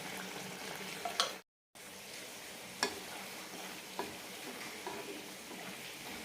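Green peas gravy cooking covered in a pan on a low flame, a steady soft simmering sizzle with a few faint clicks and taps, heard alone with no talk.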